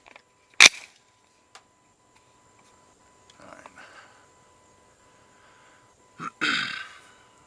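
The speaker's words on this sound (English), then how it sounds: "let's fire a few test rounds" Test rounds from a 300 BLK rifle: one sharp, loud crack early on, then a second shot near the end trailing into a longer noisy decay, with faint handling sounds between.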